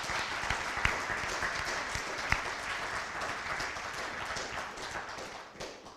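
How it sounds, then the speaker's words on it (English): A lecture audience claps steadily for about six seconds, a dense wash of many hands that stays strong and fades slightly at the end. "I want one more big round of applause for all of Meagan's work."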